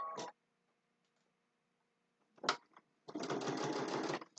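Sewing machine stitching a boxed zipper bag, heard in two brief bursts and then a steady, close run of rapid stitching after a quiet pause.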